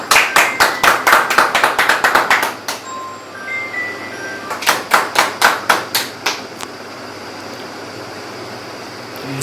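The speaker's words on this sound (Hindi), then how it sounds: "ताली तो बजाओ आप लोग।" Audience at a hospitality industry workshop claps in two loud, brisk rhythmic bursts, steady hand claps close by with a short lull between them in a room with light background noise.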